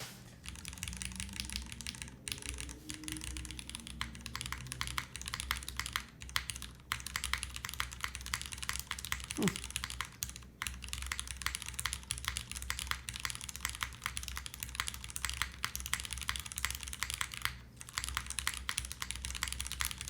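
Steady typing on a Join65 custom mechanical keyboard, a continuous run of close, crisp keystrokes for about twenty seconds with no talking and a brief pause near the middle.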